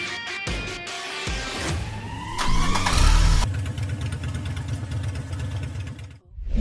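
A Porsche GT3 RS engine cranks with a few starter clicks, then fires up with a loud rising roar and settles into a rough, busy idle, heard close at an outdoor car gathering.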